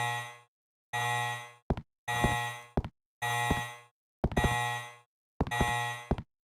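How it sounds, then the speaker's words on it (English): A bell in the Resident Evil Code Veronica video game rings again and again in sharp metallic strikes. Each ring is followed by a short decaying tone, with brief silences between the rings. "I know, annoying bell."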